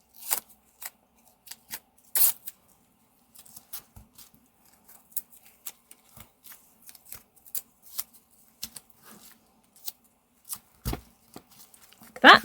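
Old masking tape that has lost its stickiness is torn and pressed down onto an art journal page, giving scattered sharp rips and crinkles, a few louder tears among softer taps, close and intimate.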